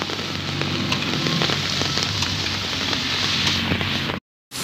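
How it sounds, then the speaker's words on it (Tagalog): Steady rain pours in a park in the Philippines, a dense close hiss of drops on surfaces that continues without a break before cutting out abruptly near the end. "It's raining, my God."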